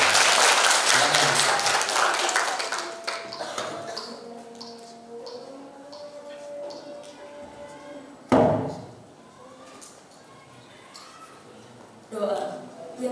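Applause from an audience at an MC training event, fading from a loud burst into scattered claps and background voices, with a sharp knock partway through.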